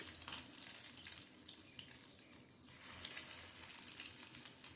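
Stuffed pointed gourds fry in hot mustard oil in a pan, giving a continuous dense hiss, fairly faint and steady throughout, without speech.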